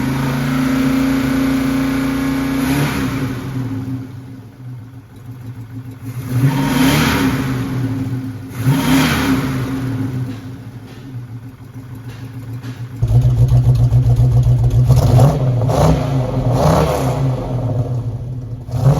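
A 1970 Plymouth Hemi 'Cuda V8 runs rough and loud up close, its idle swelling into repeated throttle revs before settling into a heavier, steady rumble, with no talk over it.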